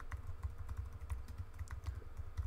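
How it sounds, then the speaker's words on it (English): Typing on a computer keyboard, with quick, steady key clicks close up and no voices over them. "you want to type in your Adobe ID"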